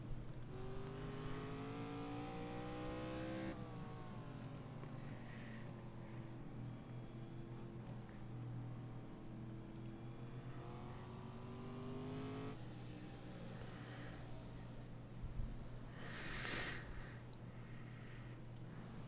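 FARCA Premier Series race cars circle the track, a steady drone of engines rising and falling in pitch as cars pass, with a louder burst near the end, heard faintly under a broadcast bed.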